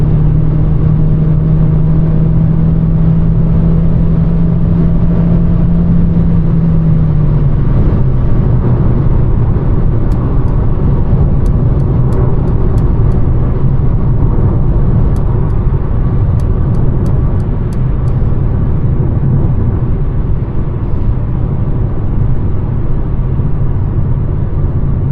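A 2024 Mercedes CLA mild hybrid accelerating hard on the Autobahn, a loud steady engine drone with a rising tone early on, then continuous road and wind roar heard from inside the cabin.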